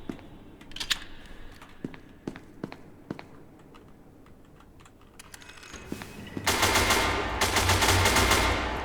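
Rapid gunfire in a one-on-one video game duel, a series of sharp separate shots followed by a dense sustained burst of automatic fire, close and loud, with no talking.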